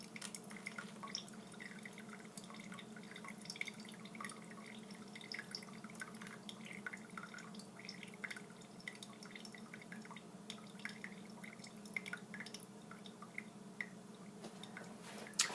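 Pour-over coffee dripping through a filter into a cup, soft irregular drips and trickles close by and faint, with a quiet background hum and no talk.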